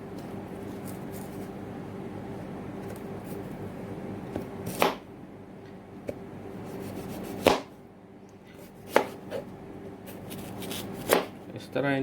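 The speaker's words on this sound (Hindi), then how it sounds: "अभी इनके मैं इनको काट लूँगा।" A knife chops peeled raw green mangoes, giving a handful of sharp, separate cuts over a low, steady background hum.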